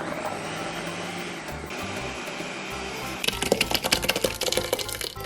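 Blender grinding vegetables with anchovy fish sauce for homemade kimchi, a steady motor whir that bursts into loud, choppy, rattling grinding partway through, close and harsh with no speech.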